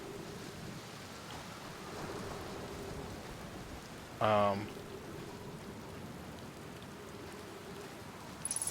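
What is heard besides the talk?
rain falling on a planet in the Outer Wilds video game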